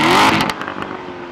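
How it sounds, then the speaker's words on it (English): A 2014 Chevrolet Corvette Stingray Z51 with its exhaust in race mode lets out a loud, short engine blast that quickly falls away into a rumbling idle, heard up close. "Notice the exhaust. This is the loudest, lowest restriction exhaust mode there is."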